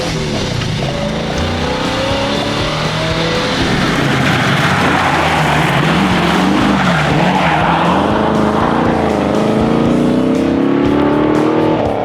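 A Ford Falcon XE V8 rally car launches hard on a TARGA Tasmania tarmac stage, its engine roaring loud and close as tires skid and squeal for several seconds, the revs climbing steadily with no talk over it.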